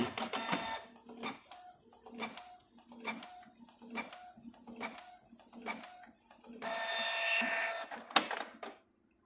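A Canon inkjet printer running a color test page makes a repeating pattern of short mechanical carriage passes and clicks, then a longer sustained whir before it stops into silence.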